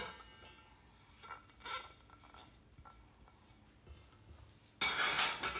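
Keto flatbread dough with zucchini and carrot is worked together in a bowl, with soft quiet clinks and scrapes of a utensil against the bowl, close and faint, before a louder burst of rubbing and clattering near the end.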